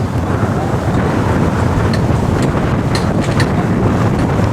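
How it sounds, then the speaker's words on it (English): Strong wind buffets the microphone at an outdoor youth soccer cup final, a loud, continuous low rumble with gusting roar and no clear voices above it. "It is getting windy up here."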